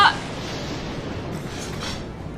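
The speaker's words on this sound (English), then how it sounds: "Rains a lot in this game." Steady rain falls in the Professor Layton vs Ace Attorney video game, a constant, even hiss that holds at the same level for the whole stretch with no other clear sound.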